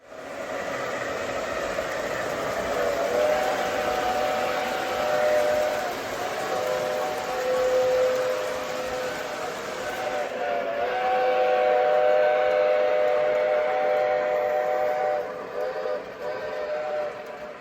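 A Lionel Strasburg 90 toy steam train runs steadily with a rumbling chug, its whistle sounding in long sustained tones partway through, fairly close and continuous.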